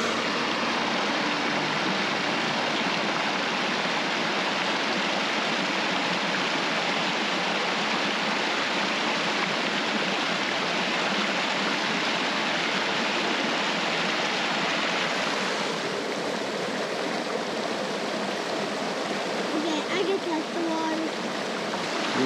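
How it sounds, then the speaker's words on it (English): Water streaming and dripping down a rock face outdoors in New Mexico, a steady, full rushing wash that continues without a break throughout. "Do you see all the water dripping down, though?"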